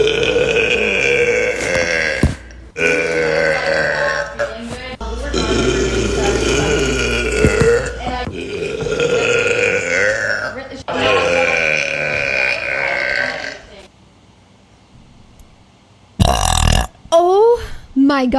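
Women burp loudly again and again, long drawn-out belches that start high-pitched and drop deep, with chatter and laughter between them.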